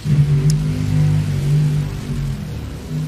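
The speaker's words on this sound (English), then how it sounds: "Mike Salinas had the throttle hang up at the end of the burnout down there" A Dodge top fuel dragster's engine drones in a deep, sustained roar with its throttle hung up after a burnout at a drag racing qualifying round, loud and steady, wavering slightly in pitch throughout.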